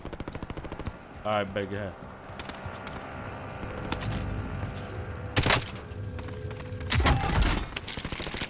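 Gunfire from a shooter video game aimed at an enemy on a rooftop: scattered sharp shots and a couple of loud bursts, heard under ongoing talk between players.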